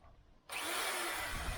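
A second electric drill, one that had just been failing, cuts in after a brief quiet moment and runs steadily, loud and close, with a rough, whirring drone that holds to the end.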